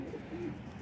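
Pigeon giving a soft, low coo close by, one brief murmuring call over faint background noise.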